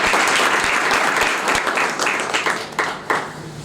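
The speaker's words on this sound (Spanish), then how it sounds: "Fuerte el aplauso para ella." Applause from an audience at a Peronist economics and politics gathering, a dense sustained clapping that starts full and thins slightly toward the end.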